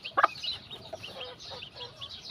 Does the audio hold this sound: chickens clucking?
yes